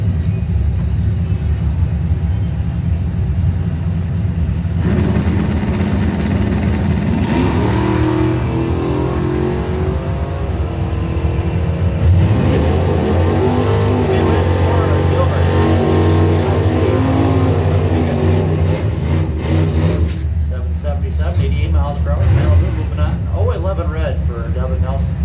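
Drag racing cars, including a 1979 Chevrolet El Camino, rumble and rev loudly at the strip, engines roaring and rising in pitch as they launch, with a track announcer talking over the noise throughout.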